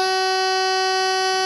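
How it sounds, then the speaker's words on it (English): Logic 4 metal keyswitch burglar alarm panel sounding its entry buzzer, a steady, loud, piercing continuous electronic tone that holds without a break, heard alone. "we'll part the door contacts and make the alarm go off"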